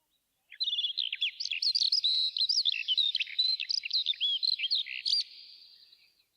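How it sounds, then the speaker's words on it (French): A skylark pours out an unbroken, high, fluttering warble for about five seconds, bright and close, then fades into silence, with no voices present. "l'alouette,"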